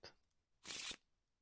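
Playing cards for the Moonstone board game are shuffled once, a brief close riffle burst after a small tap, otherwise quiet.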